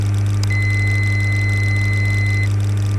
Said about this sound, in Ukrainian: Це звук повідомив, що я вимкнув автопілот.